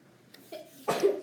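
A single person sneezes indoors during a classroom-style session, a short sharp burst preceded by a brief intake of breath, fairly close and alone.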